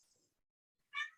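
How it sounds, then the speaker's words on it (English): A house cat gives a single short, bright meow near the end, close to the microphone but quiet, after a faint high squeak and near silence, with no talking over it. "Sorry about the cat."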